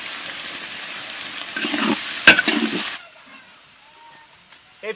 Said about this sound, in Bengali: পেঁয়াজগুলো খুব ভালো করে ভেজে নিয়েছি।